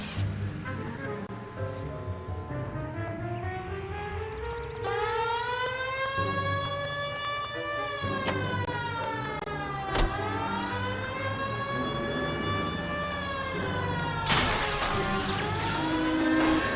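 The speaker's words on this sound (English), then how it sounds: "Did you hear the siren?" A police car siren in the L.A. Noire video game wails in long rising and falling sweeps that run without a break and stay loud and close, with car engine noise underneath.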